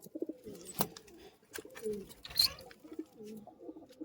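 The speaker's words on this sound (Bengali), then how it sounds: "এখানে একটা পাঠা পায়রা আছে" Pigeons coo in repeated soft, low, throaty phrases close by, overlapping one another in a quiet space, with a few brief clicks and flutters between the calls.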